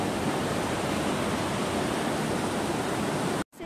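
Strong rushing water somewhere in Austria, a steady, loud broadband roar that fills the whole stretch before cutting out abruptly near the end.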